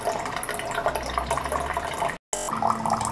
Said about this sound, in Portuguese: Enquanto ele está aqui retirando os 10 litros necessários, né, para a limpeza